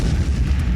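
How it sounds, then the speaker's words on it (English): A short, low rumbling boom of an explosion sound effect in a narrated story, a dull sustained blast without a sharp attack, moderately loud and alone. "Explosion sound!"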